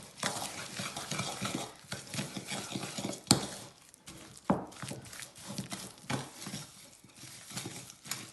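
Cookie dough being stirred with a spoon in a bowl as egg is added a little at a time, giving steady scraping and knocking strokes with a few sharper clinks against the bowl, close up and with no talk.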